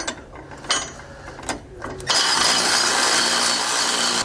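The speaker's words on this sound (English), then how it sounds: "we're going to tighten the 2 bolts for our lower bracket" A socket ratchet tightens the lower bracket bolts for helper springs on a 2019 Jayco Alante: sharp clicking strokes up close, then a continuous loud mechanical rasp through the rest.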